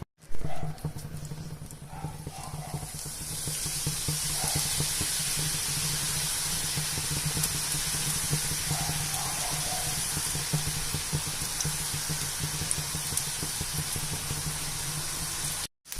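Omapodi dough pressed into hot oil frying steadily on a low flame, a continuous loud hiss and sizzle from start to end.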